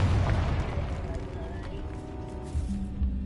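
Confringo spell blasts in the Hogwarts Legacy video game, a heavy booming explosion at the start, then rumbling, crackling debris and a second thump near the end.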